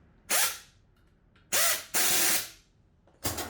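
Air driver tightening wrench bolts during assembly of a JITOOL F30 pin nailer: three loud, close bursts of whirring, hissing air motor, the second long and double, separated by quiet pauses.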